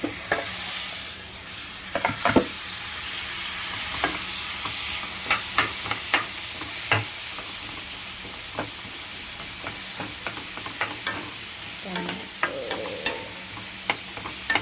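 Onions and tomatoes fry in a pan with a steady sizzle, while a spoon scrapes and stirs in repeated sharp clicks and knocks throughout. No one speaks.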